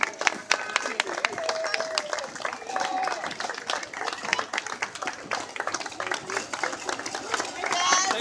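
A big crowd claps and applauds along the route of a Rosses Point parade, with bagpipers and a church float passing; steady scattered clapping mixed with cheers and chatter, moderately loud throughout.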